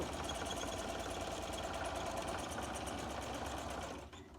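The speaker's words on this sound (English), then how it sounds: "that's the sewing machine" A sewing machine running while stitching quilt blocks, a steady fast mechanical whir and needle chatter, close and continuous before winding down and stopping near the end.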